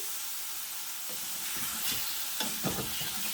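Pork stir fry cooking in a pan over medium heat, a close, continuous sizzle and hiss with a few brief stirring scrapes and pops rising near the end.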